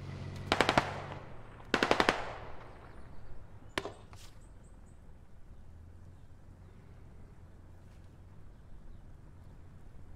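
Grenade launcher fire in the video game SquadOps: two heavy, close bursts of rapid cracks early on, then a sharper single report, fading into a quiet low rumble with no talk.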